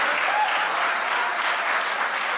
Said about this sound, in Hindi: एक बार जोरदार तालियां अपने सम्मान में।